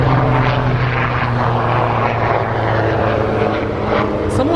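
Several helicopters pass overhead with a loud, steady rotor and engine roar that fills the whole stretch.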